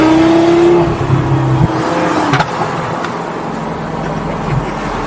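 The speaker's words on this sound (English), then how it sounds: "Taking out the car for a nice little run." A car being taken out for a drive after months unused, engine revving loudly and close, with a high whine that settles into a steady rumble while it moves.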